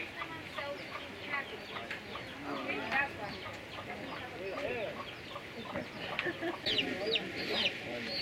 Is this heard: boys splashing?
no